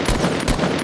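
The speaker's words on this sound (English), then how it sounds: "they're shooting at us" Rapid gunfire in Fortnite, a dense burst of loud overlapping shots hammering continuously for under a second, close and harsh.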